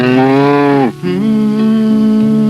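A cow moos loudly and close by in a long, steady low call with a brief break in the middle.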